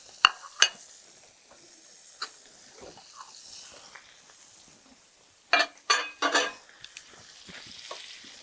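Food sears in a hot pan on a cooking show making lemon parmesan risotto: a low, steady sizzle with sharp clinks early on and a cluster of louder stirring and pan scrapes toward the end.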